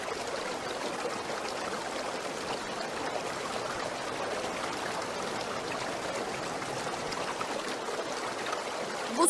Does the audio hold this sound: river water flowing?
yes